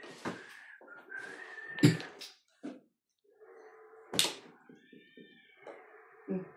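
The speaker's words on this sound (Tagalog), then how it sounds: "Pusa yun eh. Pusa pa rin." A cat meows a few times with drawn-out tonal calls, heard close by amid household clatter and soft knocks during a team mahjong game.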